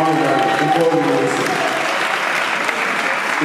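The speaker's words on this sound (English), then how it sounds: "Let's clap for mommy and daddy, before we meet." Wedding guests at a Church of Pentecost UK ceremony applaud steadily, a dense, even wash of clapping that holds throughout while voices murmur faintly underneath.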